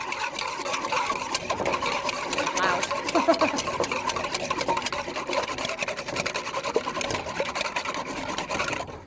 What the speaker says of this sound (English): Go ahead and whisk her up good.